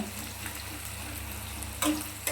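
Chopped onion and whole dried red chili fry in a pan with a steady, close sizzle and a brief sharper crackle near the end; nobody talks.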